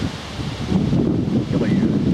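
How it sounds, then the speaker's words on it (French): Wind blowing outdoors at night near Memorial Forest in Calgary, a steady rushing buffet of gusts across the microphone with a rustling texture, fairly loud and continuous. "J'ai cru sentir comme un petit peu de vent."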